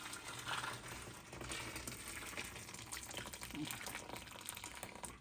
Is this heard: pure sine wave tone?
no